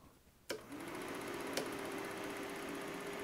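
A Berkey Keystone Dual 8 film projector for Super 8 and regular 8 film starts with a click and settles into a quiet, steady mechanical whir and hum with a faint rapid flutter.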